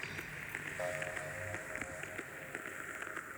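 Atmospheric effects layer from a hypnotic techno track produced in Ableton: a faint, hissing wash of noisy texture with soft crackles and a brief tonal wisp, steady and quiet throughout.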